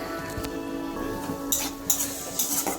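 Tarka (lentil curry) cooking in a pan, with soft stirring scrapes and light metallic clinks of a utensil against the pan over a faint sizzle, quiet and close.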